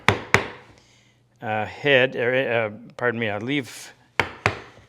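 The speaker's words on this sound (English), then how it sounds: "I'll set the chisel right on the marking gauge line, chop down about halfway" A chisel set on a marking gauge line chops down into wood with two sharp knocks at the start and two more near the end, and someone talks in the gap between them.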